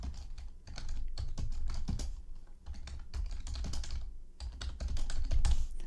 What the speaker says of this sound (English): I'm just typing out of a comment really quickly.